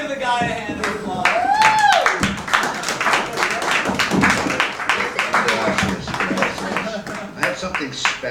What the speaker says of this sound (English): Somebody give the guy a hand of applause.